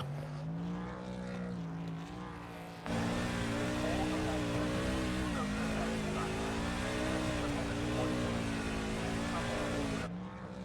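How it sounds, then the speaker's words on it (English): A race truck at Road America does a victory burnout, its engine held at a steady, loud, wavering high-rev roar for several seconds with tire squeal mixed in, set against a quieter engine idle before and after. "Still doing burnouts."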